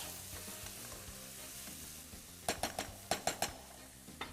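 Onions fry in a pan with a spoonful of melted butter, a low steady sizzle running under a few sharp clinks of a utensil against the pan near the end.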